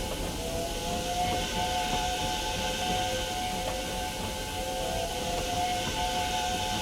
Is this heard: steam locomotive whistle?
yes